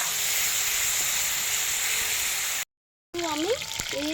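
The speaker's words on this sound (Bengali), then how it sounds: "একটু কিমাটা আমি কড়াইয়ের মধ্যে দিয়ে দিচ্ছি, দিয়ে একটু ভাজা ভাজা করে নেব বন্ধুরা" Minced meat frying in a wok gives a steady, close sizzling hiss that cuts off briefly, then returns beneath a voice.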